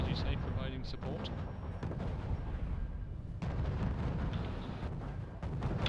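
Repeated artillery shelling in a strategy video game match: dull booms and thuds rolling over a busy battle din.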